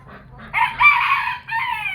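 A Chinese silkie rooster crows once, close and loud, a strained two-part call lasting about a second and a half with a short break before the final drawn-out note.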